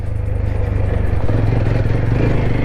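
A motorcycle rides over a rough mountain road in northern Gorkha with a loud, steady engine drone and a rattling, bumpy clatter from the uneven surface.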